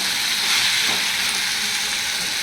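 Brinjal and potato sautéing in a pan: a steady, loud hiss of frying oil that stays even and unbroken throughout, with no voice over it.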